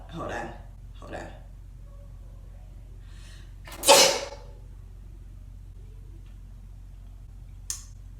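Brief speech-like sounds lead into one sharp, loud sneeze up close, then near silence with a small click at the end.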